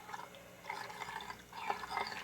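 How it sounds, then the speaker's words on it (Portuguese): Cold water is poured into a glass in a home kitchen while fried chicken batter is prepared, a faint, steady trickling and splashing that runs throughout. "Aí eu vou colocar um copo de água."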